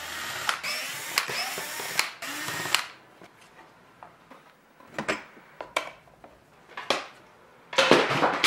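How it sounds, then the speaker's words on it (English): A power driver spins a cut-down Allen wrench to turn Allen head screws, giving short mechanical bursts of whirring and clicking separated by quiet gaps, close and fairly loud. "I'm just gonna chop it in half so I can put it in my power driver"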